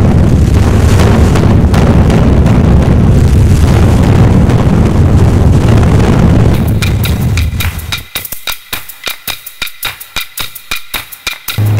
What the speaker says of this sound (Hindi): फिर अचानक 3 तेज धमाके।